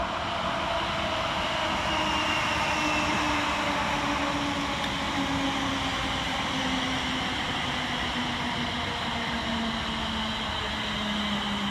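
Steady low rumble of Class 350 electric multiple unit trains rolling in at Milton Keynes Central station, a long drawn hum with a faint whine gliding slowly downward, continuous and fairly distant.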